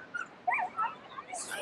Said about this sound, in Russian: Собака хочет играть, а ее хозяин держит за ошейник.